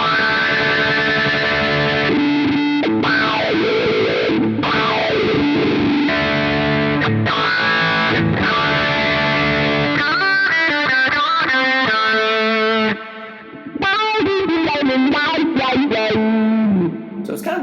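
Electric guitar played through a wah filter effect on a Quad Cortex with reversed trigger direction: distorted chords and notes with sweeping, vowel-like filter movement, continuous and loud for most of the passage, with a brief dip near the end.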